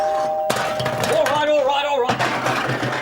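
A two-tone electronic doorbell chime rings clearly over background music, a short melodic sequence lasting about a second and a half.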